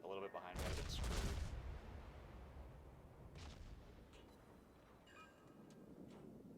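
Naval guns firing in World of Warships aboard the Kagero destroyer, a heavy muffled salvo boom early on, then a few fainter distant shots and rumbles over low wind-like background noise.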